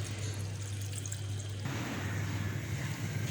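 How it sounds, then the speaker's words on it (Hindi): Fenugreek leaves (methi) washed in water for an aloo methi dish, a steady pouring and splashing with a low hum underneath, the sound shifting to choppier sloshing halfway through, no talking. "अब मेथी को मैं अच्छी तरीके से धो के काट लूँगी, इसको 3-4 दफ़ा पानी से निकालूंगी अच्छी तरीके से"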